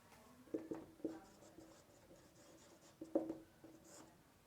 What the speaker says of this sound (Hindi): तो इसका रिजल्ट हम यहाँ पे सामने लिख देते हैं।